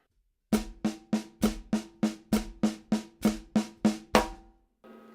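Twelve evenly spaced drum hits ring out as eighth note triplets on a drum set, each stroke sharp and resonant, played alone at a steady pace.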